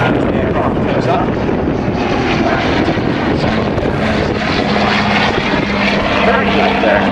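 A de Havilland Dragon Rapide biplane climbs at the Duxford D-Day airshow, its propeller engines droning loud and steady with wind buffeting the microphone throughout.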